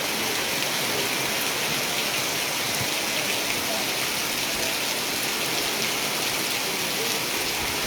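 Heavy monsoon rain pours down at Koyna Nagar, Maharashtra, in a dense, unbroken hiss, drops drumming steadily on surfaces nearby.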